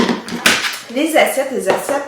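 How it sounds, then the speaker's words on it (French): Tupperware plates and glasses with lids being handled, with close clattering knocks and scraping of the plastic pieces against each other, a few sharp clacks amid continuous rustling, and a voice speaking briefly underneath. "vous avez un ensemble de 4 verres avec couvercle, les assiettes"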